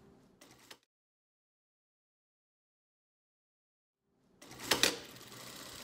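A sewing machine top stitches pillow fabric in a brief run, stops for a long silent pause, then starts again with a steady, close mechanical stitching whir that carries to the end.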